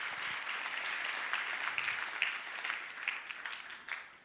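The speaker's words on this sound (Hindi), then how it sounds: "भाई आगे ताली बज रही है, पीछे भी बजनी चाहिए" An audience at a leadership training session breaks into sustained applause, a dense wash of many hands clapping that grows slightly, then thins out toward the end, heard from a moderate distance without talk.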